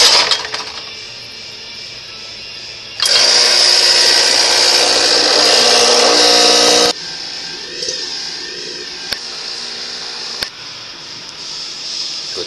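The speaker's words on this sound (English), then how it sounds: "let me first make a coffee, an espresso." An espresso machine pumps and brews with a loud, bright buzzing hiss that runs for a few seconds. Quieter clicks and light handling sounds come before and after it in a studio setting.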